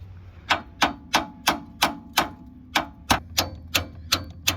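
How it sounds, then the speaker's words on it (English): Hammer blows land repeatedly on a 1996 Ford Crown Victoria during repair work: about twelve sharp, evenly spaced metallic strikes, close and loud, with no talking between them. "Hammer."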